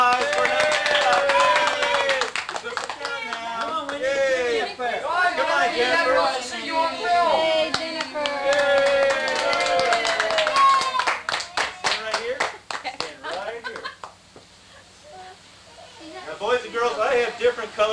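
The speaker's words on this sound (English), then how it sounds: "give him a nice round of applause for him" Guests clap for a child at a fifth birthday party. Bursts of hand claps come through amid lively chatter and an adult speaking and calling out throughout.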